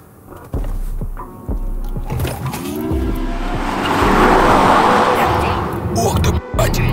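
A Lucid Air Dream Edition electric car launches under launch control, a rising whine and road rumble building as it accelerates hard, with thumps and people's voices and exclamations over it.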